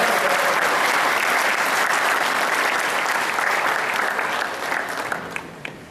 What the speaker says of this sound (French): Je vous prie d'applaudir pour tous les cadres du ministère du Plan et de la Coopération